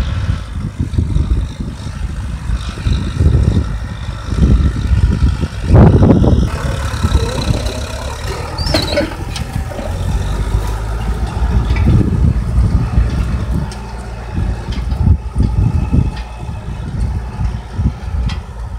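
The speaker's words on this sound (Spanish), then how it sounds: "a donde ya está pasando el tractor" A heavy tractor engine rumbles steadily throughout as the tractor passes nearby in a field being sown with corn, with clanking and rattling bursts over the continuous drone.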